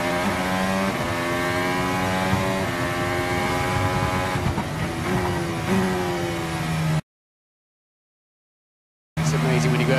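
Lewis Hamilton's Formula 1 car on its 2016 Monaco pole lap, a loud close high-revving engine whine climbing through gears with quick shift drops, then cutting to silence before briefly returning.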